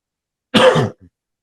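A single short, harsh cough, close and loud, followed by a faint little after-sound, alone in silence.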